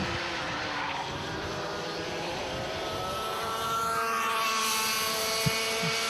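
Racing kart engines, A1 and Piper types, in a Junior Clubman class final, droning steadily and loud throughout, the whine rising in pitch toward the end as karts pass close by, with a brief sharp knock near the finish.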